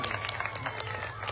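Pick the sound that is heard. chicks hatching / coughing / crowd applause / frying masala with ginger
crowd applause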